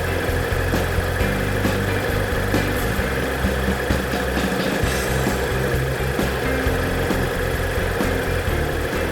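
A 2021 Mazda CX-3 engine idles steadily, heard close from underneath the raised car, with a constant low hum and faint mechanical ticks and no talking.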